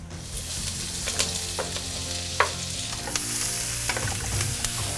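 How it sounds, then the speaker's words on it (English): Onion and chorizo fry in coconut oil in a hot pan, a continuous close sizzle with occasional sharp pops and crackles from stirring. "I'm just going to chuck in all this onion and chorizo and get it fried up."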